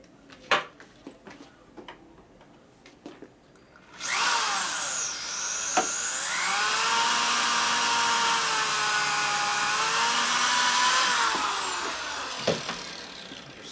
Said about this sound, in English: Center drill doesn't want to drill it. A regular drill ain't going to drill it either.